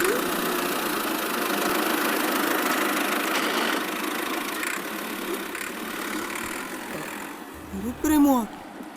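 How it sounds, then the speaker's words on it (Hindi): A tractor engine runs with a steady, rumbling mid-range drone that dips slightly partway through, and a voice briefly breaks in near the end. "ये साला ट्रैक्टर चल रहा है।"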